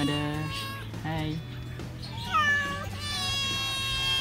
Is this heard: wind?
no